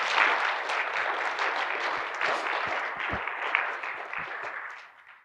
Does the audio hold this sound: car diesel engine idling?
no